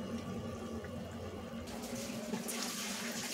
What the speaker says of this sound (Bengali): এবার এটাকে 2 থেকে 3 মিনিট ফুটিয়ে নেব